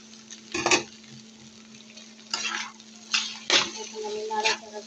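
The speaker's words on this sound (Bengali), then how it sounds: "এখন আমি নাড়াচাড়া করতে থাকবো।" Okra fry with turmeric, salt and chopped green chilli gets stirred in a pan, giving several separate scraping strokes with a soft sizzle between them, close and moderately loud over a steady low hum.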